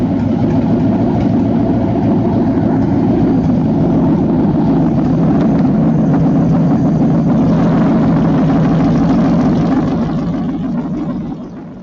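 A car engine running steadily on a timing check, a loud, close, even drone with a strong low hum that holds for several seconds and then eases off slightly at the end, with no voices.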